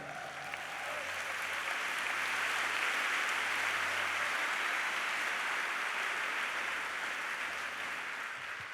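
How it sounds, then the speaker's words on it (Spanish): A church congregation gives the Lord an offering of applause: steady, full clapping from a large crowd that rises quickly and holds evenly for several seconds before fading slightly. "Dale una ofrenda de palmas al Señor"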